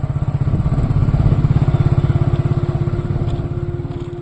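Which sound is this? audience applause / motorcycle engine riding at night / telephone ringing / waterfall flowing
motorcycle engine riding at night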